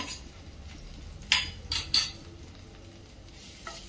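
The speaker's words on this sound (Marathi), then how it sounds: "आता मी त्यामध्ये हा ठेचून घेतलेला लसूण टाकत आहे।" Crushed garlic dropped into about 1.5 to 2 spoons of hot oil in a pan, giving a soft steady sizzle with a few brief clinks and stirring scrapes of a utensil, with no talking.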